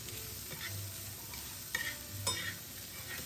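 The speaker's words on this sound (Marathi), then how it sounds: "आता त्यात बारीक चिरलेला कांदा घाला आणि तो मऊ होईपर्यंत छान परतून घ्या।" Finely chopped onion sautéing in oil with garlic and green chillies for Koli-style stuffed brinjal, a soft sizzle under stirring scrapes and a couple of sharper utensil knocks, fairly quiet and close.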